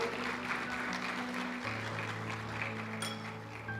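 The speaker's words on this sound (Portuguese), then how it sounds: "Pode aplaudir o Senhor." A church congregation applauds during an Easter sermon, a dense wash of clapping mixed with sustained keyboard chords, moderately faint and continuous throughout.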